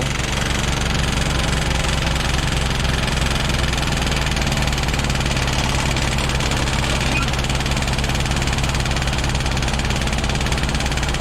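A vehicle engine idles steadily and loudly for the whole stretch, with a continuous low rumble and mechanical vibration, no voices over it.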